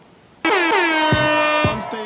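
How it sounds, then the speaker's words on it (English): One loud, sustained air horn blast starts abruptly and holds for about a second and a half, close and dominant, with brief voice bits near its end. "Someone pounds an air horn."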